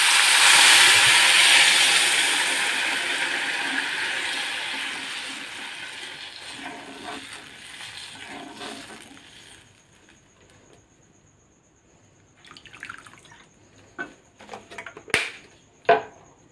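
Water is poured into a hot pan of browned lentils for daliya lapsi, bursting into a loud, broad sizzling hiss that slowly fades over several seconds, followed by a few scattered clinks and scrapes.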